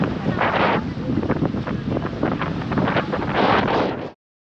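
Strong wind buffets the microphone over the steady wash of sea waves at a beach near Rameswaram, loud and continuous before cutting off abruptly.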